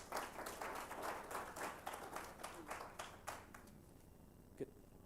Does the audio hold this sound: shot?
no